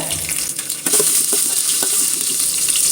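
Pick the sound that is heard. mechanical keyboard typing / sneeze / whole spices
whole spices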